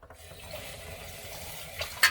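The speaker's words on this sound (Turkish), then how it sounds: "şimdi gelelim sırada otlarımızı yıkamak var" Tap water running into a kitchen sink while fresh herbs are washed, a steady soft close splash and hiss that swells briefly near the end, with no talking.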